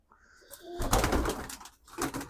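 A racing pigeon coos close by in a short sequence of low, throaty pulses, loud and clear with no talk.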